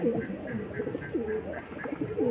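Repeated low, throaty coos from Kasuri Face of Beauty pigeons, several rolling calls in quick succession at close range over a light background hum.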